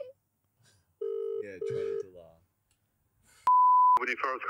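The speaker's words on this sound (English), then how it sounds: "we're just going to call a service station" A telephone call placed to a service station as a prank: steady electronic beeps and a long dial tone, followed by people talking over the line.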